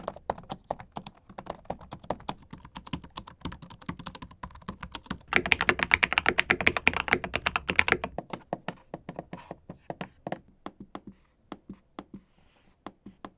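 Rapid, close typing on a gaming laptop keyboard, a dense stream of light key clicks that gets louder and busier midway before easing off.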